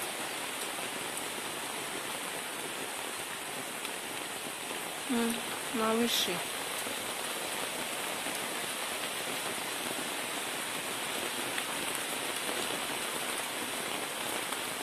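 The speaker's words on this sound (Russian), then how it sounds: "Льет дождь." Heavy rain pours down in a steady, dense hiss, with a brief voice speaking in the middle.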